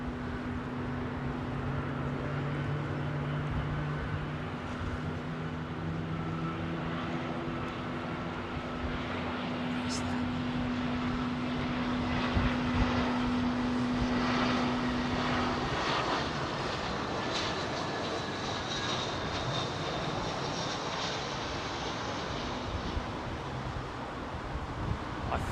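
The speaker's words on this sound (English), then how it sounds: "I think that is Saudia 777 headed for Riyadh that we're hearing starting up there." A Saudia Boeing 777 jet engine spins up at a busy airport, a steady broad roar with a long rising whine, heard from a distance through wind noise for about twenty-five seconds.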